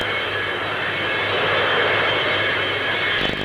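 A 1950s jet aircraft at the Farnborough air show, a loud steady roaring drone with a whining tone that holds throughout, heard alone.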